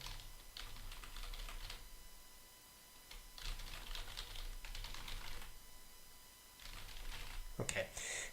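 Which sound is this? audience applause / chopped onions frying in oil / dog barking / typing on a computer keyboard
typing on a computer keyboard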